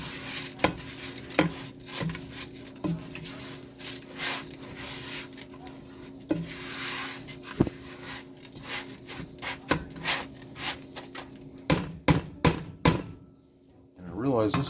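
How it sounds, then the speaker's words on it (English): Jasmine rice being stirred in an oversized pot with a wooden spoon, giving repeated scraping knocks and rubbing strokes at an uneven rhythm, close and fairly loud over a faint sizzle. "And I'm going to stir it around until it's all coated"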